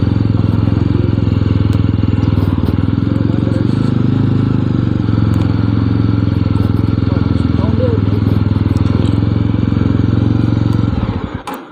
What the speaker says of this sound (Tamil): ஹெவியாக கேட்குது தானே வண்டி சவுண்டு.